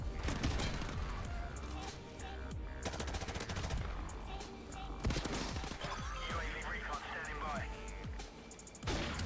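Rapid automatic weapon fire and single sniper shots from the video game Call of Duty Modern Warfare Remastered, loud and frequent in bursts throughout, with someone talking over the shooting.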